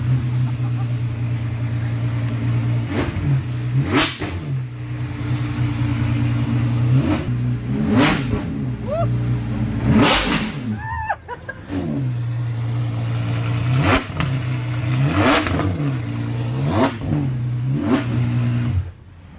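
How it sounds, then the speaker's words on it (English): A naturally aspirated V12 engine in an Apollo supercar is revved repeatedly in sharp bursts, each climbing to a high wail then dropping back to a deep idle, loud and close. "We're about to hear what a naturally aspirated V12 in the Apollo sounds like."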